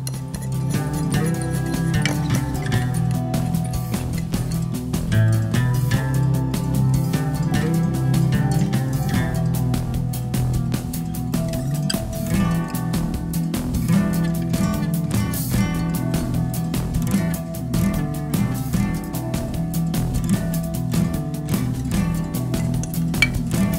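A batter of flour, cornflour and spices is mixed in a bowl, with a spoon or whisk clinking repeatedly against the sides under continuous background music.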